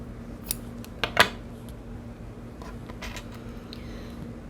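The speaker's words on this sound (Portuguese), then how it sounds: "eu vou cortar um pedaço bom desse fio" Scissors cut a length of yarn for a crochet door stopper, heard as a few quiet close snips, the clearest pair coming about a second in, against a faint hum.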